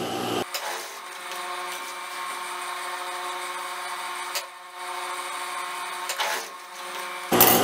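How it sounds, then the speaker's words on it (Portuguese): A sewing machine runs a short line of stitching to hold a dress's pocket openings, giving a steady mechanical whir for several seconds with brief dips and a final clack as it stops. "Vou passar uma pequena costura só para prender aqui essas aberturas do bolso"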